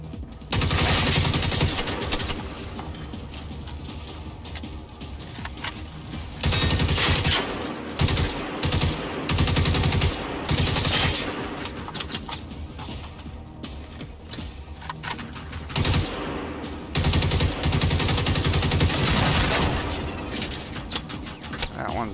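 Gunfire from a hard-recoiling weapon in the video game Generation Zero. Loud bursts of rapid automatic fire come in several long volleys separated by short pauses, close and dominant.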